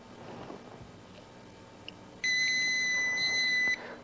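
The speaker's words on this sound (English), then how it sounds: "the oxygen sensor, will sound until it comes down beyond its alarm set point" Industrial Scientific gas monitor from 1988 sounding its oxygen sensor alarm, a loud steady electronic beeping tone lasting about a second and a half over a faint background hum, with no talking.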